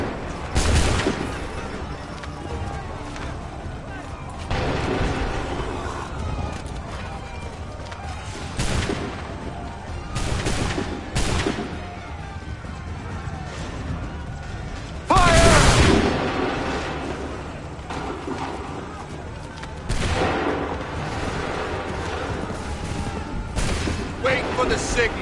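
Soldiers' musket volleys in Assassin's Creed 3, several sharp, loud fusillade bursts spaced a few seconds apart over a constant battle rumble, with voices talking between the shots.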